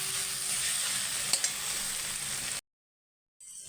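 Pointed gourd (potol) pieces sizzle steadily in a hot pan while being stirred, a loud continuous frying hiss with a couple of scraping clicks, then a sudden break to silence before the sizzle resumes.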